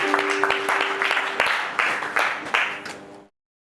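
Church congregation applauding during a French-language service, a steady spread of many hands clapping together for about three seconds before stopping abruptly.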